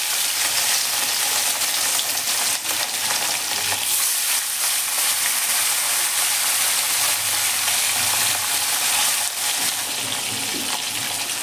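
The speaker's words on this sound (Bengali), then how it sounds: "এবার আমি একে একে মাছগুলো তেলের মধ্যে ছেড়ে দেবো।" Rohu fish pieces frying in smoking hot oil over a high flame, a loud, dense, steady sizzle that hisses without pause, with a couple of brief bumps from the pan.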